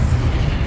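A Confringo fire spell bursts in Hogwarts Legacy with a short, loud, heavy boom that is low and rumbling and fills the brief moment.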